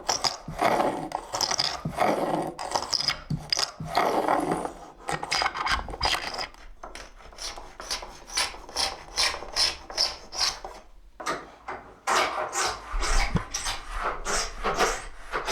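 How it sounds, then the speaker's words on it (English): A type-dressing plow fitted with a cutter shaves printing type in repeated rasping strokes, close and fairly loud, with a short pause before a faster run of scraping passes. "So the plow with a cutter here is placed over the type, and a very light cut is made."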